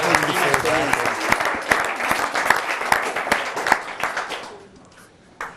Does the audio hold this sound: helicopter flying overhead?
no